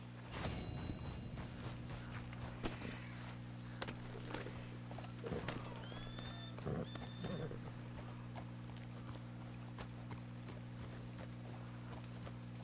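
Horse hooves walking in the video game Red Dead Redemption 2, a near clip-clop of irregular steps over steady low background hum, with a faint whinny-like tone in the middle and no talk.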